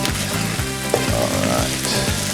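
Lobster paella sizzles loudly and steadily in a hot pan while being stirred, with a dense, continuous frying hiss and faint rhythmic scraping underneath.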